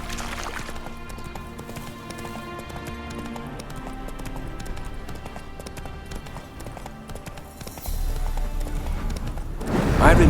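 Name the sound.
horse Roach galloping in The Witcher 3 video game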